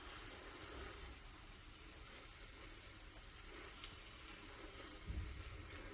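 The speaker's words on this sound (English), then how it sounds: "get our trusty sprayer, and this time I'm going to turn it down to the spray setting because I don't want to like blast the seeds out" A garden sprayer on a gentle spray setting waters seed pots: a faint, continuous hiss of fine water spray with a soft bump near the end, no talking.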